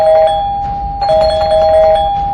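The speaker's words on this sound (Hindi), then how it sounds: "डोरबेल बजे जा रही थी" An electronic doorbell chimes twice in a row, clear and loud, each tone ringing out steadily over a faint background.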